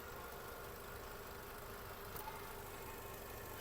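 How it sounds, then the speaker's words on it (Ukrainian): Volkswagen Golf 6 with automatic transmission idling, a steady, even engine hum with a faint rumble and no variation in pace, heard close and alone. "Робота двигуна."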